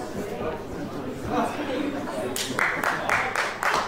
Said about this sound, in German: Ja, da gibt es auf jeden Fall den Applaus